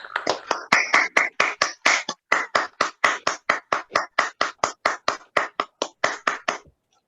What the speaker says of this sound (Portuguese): Eu acho que eles merecem uma salva de palmas.